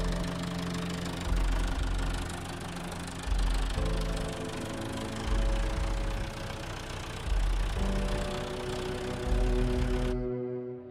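A tractor engine runs steadily at close range while a hydraulic skip lifting machine loads a skip onto it at Dadaab. The engine note swells in regular surges with the lifting load, with no voices.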